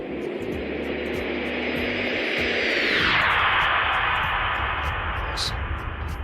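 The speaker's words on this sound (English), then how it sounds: "a jet just happens to fly by closely" Jet roaring closely past in the X-Plane 11 flight simulator, a loud, continuous broadband rush with deep bass that swells and then sweeps down in pitch as it passes, with no talk over it.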